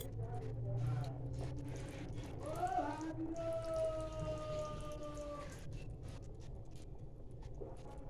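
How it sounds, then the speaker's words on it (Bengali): Fish curry boils in a pan, giving a steady, close bubbling patter much like rain, with a few faint tonal whines drifting through. "দেখো কেমন ফুটছে তরকারি।"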